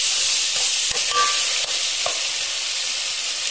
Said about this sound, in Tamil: இந்த ஸ்டேஜ்ல தக்காளி சேர்த்து நல்லா வதக்கிடலாம்